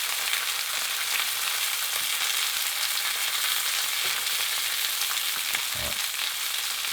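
Steak frying in a pan with butter for basting, producing a loud, steady, close sizzle that holds evenly throughout, with occasional faint knocks of the pan.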